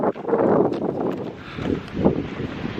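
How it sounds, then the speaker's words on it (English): Strong wind buffets the microphone on a rocky fishing coast with a heavy swell running, a continuous loud roar with gusts swelling and easing throughout, no voices. "Swell's up, wind's up, making it for tough fishing."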